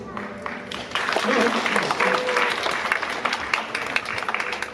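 An audience at a pageant gives a dense round of clapping that swells and then tapers slightly, mixed with crowd noise and a speaking voice.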